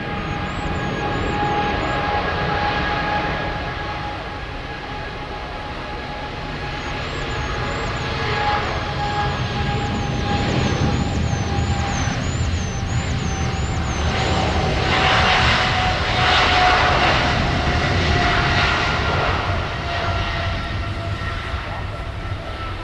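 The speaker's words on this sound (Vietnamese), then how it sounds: "chúng ta sẽ tới với Boeing 737-300ER của EVE cất cánh rời khỏi sân bay Tân Sơn Nhất hướng về sân bay Đào Viên, Đài Loan" An EVA Air Boeing 737-300ER takes off from Tan Son Nhat airport bound for Taoyuan, its engines producing a sustained, loud roar with a steady whine that swells and holds throughout.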